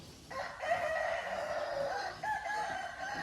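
A rooster crows once in a long, strained call at a moderate distance, with quiet background noise around it.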